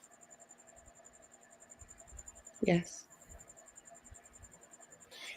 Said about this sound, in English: Can you hear my crickets?